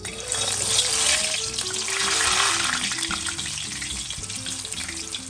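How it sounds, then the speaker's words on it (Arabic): A Syrian falafel patty frying in hot oil gives a loud, steady crackling sizzle that swells and settles, with soft music playing underneath. "هذا هو قرص الفلافل صار معي خالص، رحلته مثل ما انكم شايفين، ورح نزله بالزيت."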